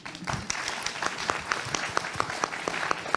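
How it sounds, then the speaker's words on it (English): Audience applause at a panel discussion on trade and tariffs, steady clapping from a crowd with sharp individual claps standing out, fairly distant and continuous throughout. "We always have time for applause."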